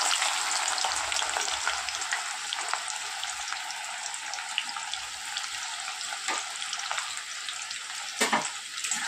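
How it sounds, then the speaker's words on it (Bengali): Onions for beresta fry in hot oil with a steady, bright sizzle that runs throughout, broken by occasional soft stirring clicks near the end, with no talking. "এখানে হাফ পেঁয়াজ আমি বেরেস্তা করব"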